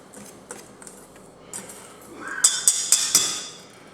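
Dry flour and baking soda stirred in a bowl for banana bread, a few soft scrapes followed by four sharp clinks of a utensil against the bowl rim, close and fairly loud, with no talking.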